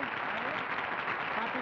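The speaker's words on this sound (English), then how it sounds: "just to receive the applause he so justly deserves" Studio audience applause for Steve DePass on a 1960 television panel show, a dense, even burst of clapping with a voice faintly audible beneath it.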